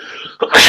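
A single abrupt sneeze: a short breathy intake followed by a sharp, loud burst that ends the moment, close to the listener.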